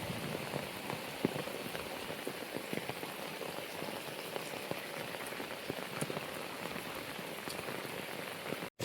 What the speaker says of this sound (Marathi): मित्रांनो खूप पाऊस पडत आहे बघू शकता